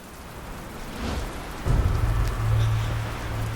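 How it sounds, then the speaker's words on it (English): Steady rain patters on a surface while a deep rumble of thunder rolls in midway and lingers, moderately loud with no talking. "Guess there's a little rain coming down."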